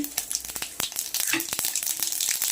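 Mustard seeds crackling and popping in hot oil, a close, busy sizzle of sharp pops and spatters that grows denser partway through, with faint clinks and no talk.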